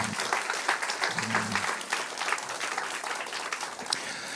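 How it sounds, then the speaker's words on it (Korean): A church congregation gives a sustained round of applause at a service giving thanks for a Bible school. The dense, even clapping fills the room at a moderate distance, and a voice is briefly audible early on. "우리 정말 우리 모두에게 하나님께 영광의 박수 올려드리도록 하겠습니다"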